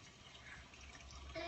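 Water poured into a bowl to make protein fluff, a faint, soft liquid trickle heard close up and fairly quiet throughout.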